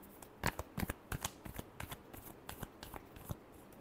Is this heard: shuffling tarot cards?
yes